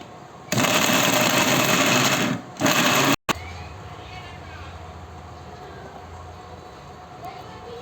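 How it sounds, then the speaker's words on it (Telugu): A mixer grinder whirs loudly through cooked mutton and green chillies for village-style haleem, running in two close bursts that cut off abruptly, then quiet kitchen background. "మటన్ అనేది కొంచెం చల్లారిన తర్వాత మిక్సీ పట్టుకోవాలి"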